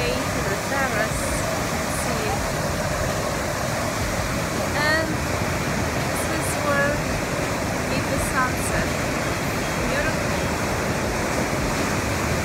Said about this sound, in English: Behind me is Manavgat waterfall.